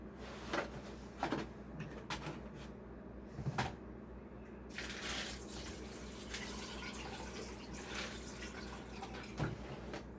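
Water draining off soaking pinto beans in a kitchen, a faint, steady pouring and trickling with intermittent clinks and splashes, no talking.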